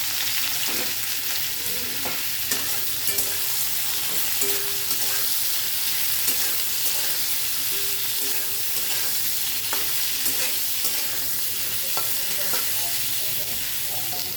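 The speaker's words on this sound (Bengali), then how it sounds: "আমার তেল গরম হয়ে গেছে। এবার আমি কাঁঠালগুলোকে একটু ভেজে নেব।" Jackfruit pieces fry in hot mustard oil, giving a steady close sizzle throughout with occasional stirring clicks and scrapes, and no voices.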